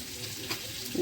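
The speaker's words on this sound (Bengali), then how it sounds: "সেই খয়রা মাছ এই দেখেন ভেজে নিচ্ছি" Khoyra fish frying in hot oil, a soft steady sizzle with faint crackles, close and quiet, without talk.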